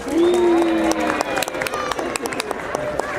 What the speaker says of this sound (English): Can everyone give Gunny a round of applause?